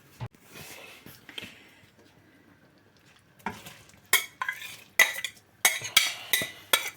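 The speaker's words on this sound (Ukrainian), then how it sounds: "Засипали капусточку нашу квашену і сюди сразу закладуємо і наше м'ясо" Fermented sauerkraut tumbled into a pot of borscht broth with potatoes, heard as quiet rustling at first, then a run of sharp clinks and scrapes from a utensil against the pot, loud and close.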